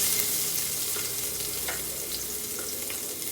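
Vegetables and onions roast in hot oil for egg rice, giving a continuous moderate sizzle with occasional brighter crackles and pops, heard alone without speech.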